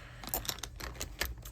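Small hard objects clatter and click in quick, irregular bursts, like pens being shuffled and knocked together close by.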